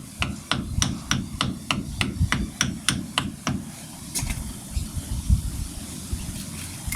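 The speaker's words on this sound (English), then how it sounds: "I'll carefully hammer it in until it's about 1" About a dozen sharp hammer taps in an even rhythm, then a few slower blows, against a low rumbling background, as a seal is hammered into place while replacing Citroën 2CV wheel bearings.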